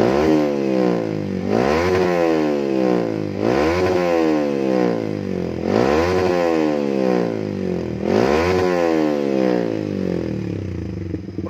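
A Yamaha R15 motorcycle with a workshop-built racing exhaust and its dB killer removed is revved hard about five times in a steady rhythm, each loud rising rasp falling back to a rough, popping idle, recorded close up.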